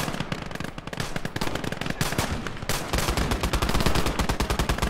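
Rapid automatic gunfire from a weapon in the World War II-style game Last Grenadier 1946, loud sustained bursts of closely spaced shots with brief pauses, dense and continuous throughout.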